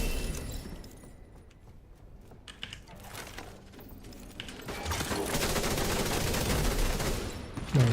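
Rapid gunfire from The Division bursts out in the second half, dense and loud, after a quieter opening with scattered clicks and game sounds.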